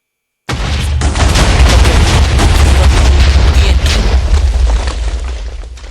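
Minecraft explosion, a sudden loud booming blast after a brief silence, followed by a heavy rumbling roar and debris crackle that gradually fades.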